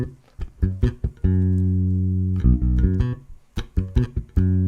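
Bass guitar plucked with the fretting hand muting the strings, giving short percussive thuds among a few ringing sustained notes in an uneven rhythm, close and clear with no talking.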